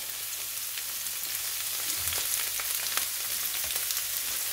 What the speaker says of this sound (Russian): Немножечко обжариваем.